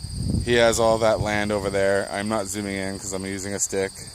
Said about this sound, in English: You can probably hear the crickets and the frogs in the background.